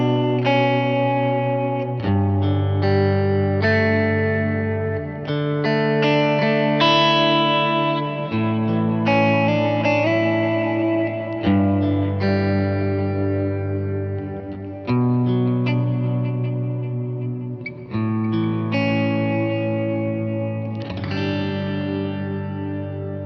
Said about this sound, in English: I'll play it and then I'll kick on the dual delay so you can hear that.